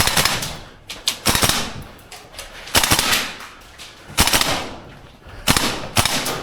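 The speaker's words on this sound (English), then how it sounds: "this is how a Marui AKM will perform out the box" A Tokyo Marui AKM gas blowback airsoft rifle, stock out of the box, fires in loud close bursts of rapid sharp cracks with bolt clatter during an indoor CQB run, separated by short pauses and footstep noise.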